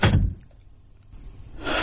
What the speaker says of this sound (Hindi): और मैंने दरवाजा बंद कर लिया।